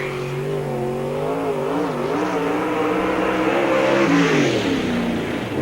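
Race car engine at Spoon River Speedway, a dirt oval, roaring loud and steady as it laps, pitch rising and falling through the corners with crowd-level track noise behind it.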